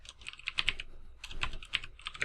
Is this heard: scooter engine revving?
no